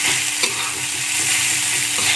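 Green chili fried rice with salt, pepper, sugar and MSG is stirred in a hot pan, a steady loud sizzle with scraping spatula strokes and a brief sharp clink.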